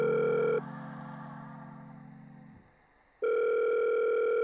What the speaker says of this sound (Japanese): お願い電話に出て。